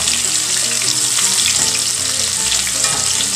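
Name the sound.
shrimp frying in oil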